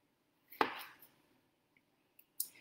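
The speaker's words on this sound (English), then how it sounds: "we're just chopping the zucchini into half centimeter discs" A knife cuts zucchini into half-centimetre discs on a board, a sharp close chop followed later by two lighter taps, with quiet gaps between strokes.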